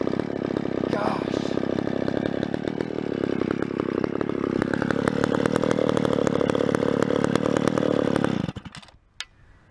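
A small carbureted engine runs and idles steadily for about eight seconds with a loud, even throbbing hum, then cuts off abruptly near the end, leaving brief quiet and a faint knock.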